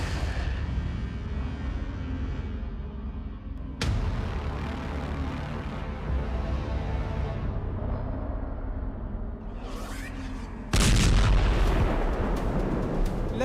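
Hezbollah missiles and rockets launching toward Israel, a continuous roaring rush of launch noise broken by sudden louder bursts, with a sharp, heavier blast near the end.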